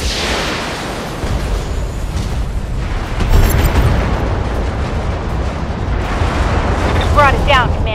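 Mech weapons fire and explosions boom in the BattleTech game, dense rumbling blasts and bursts layered over a continuous roar, loud throughout with a voice speaking over the action.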